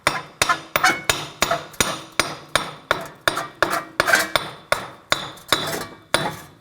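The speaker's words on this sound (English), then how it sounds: "And very carefully, just give the axle a tap." A hammer tapping a Nissan Altima axle out of the front wheel hub, a steady series of about fifteen sharp metallic blows, evenly spaced and close, with no talk.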